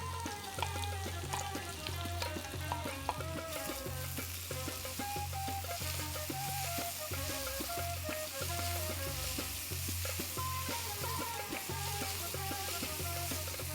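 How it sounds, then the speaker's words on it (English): Sliced onions fry in melted ghee for a chicken nihari, a dense steady sizzle and crackle with occasional stirring scrapes, close and continuous throughout, no voices. "Once the ghee melts, I'm going to add 4 sliced onions and fry them till they are nice,"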